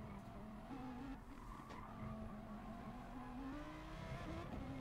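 A race car in Gran Turismo Sport brakes into a corner, tires squealing in a long skid over a steady engine drone, fairly faint and continuous without speech.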